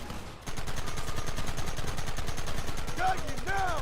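Rapid, continuous gunfire from the Red Dead Redemption video game bursts in after a brief lull and keeps going as a dense, loud stream of shots, with voices shouting briefly near the end.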